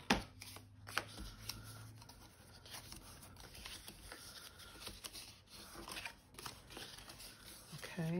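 Quiet snips and paper rustling come close up as a small cardstock piece is cut off a treat box, with soft handling noises between cuts and a person talking at times.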